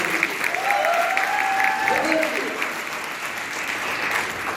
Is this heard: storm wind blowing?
no